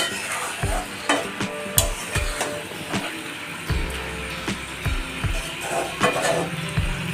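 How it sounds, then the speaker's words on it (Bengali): Chicken pieces sizzle in a pan while a spoon scrapes and stirs them in repeated strokes, the steady frying hiss close and continuous beneath the clatter. "মাংস চাপিয়ে দেওয়া হয়েছে, তোমরা দেখতেই পাচ্ছ।"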